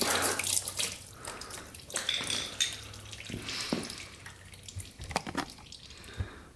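Engine coolant runs out of the main coolant line of a Yamaha Raptor 700 ATV that sat outside for 13 years, a steady close trickle and splatter with a few light knocks.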